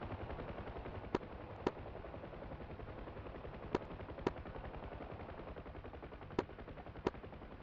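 Aircraft guns firing in a video game: a steady, low mechanical drone of rapid fire runs throughout, punctuated by several sharp, isolated cracks at uneven intervals, with no talk.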